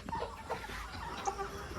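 Chickens cluck on a poultry farm raising seventy-day-old roosters of about 2.6 kg. Scattered soft clucks from several birds rise over a dense, muffled barn murmur.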